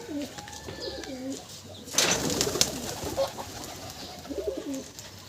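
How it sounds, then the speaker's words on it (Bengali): Madrasi pigeons coo in repeated soft, rolling calls close by, with a sudden flurry of flapping or scuffling in the middle. "এই হচ্ছে পায়রা"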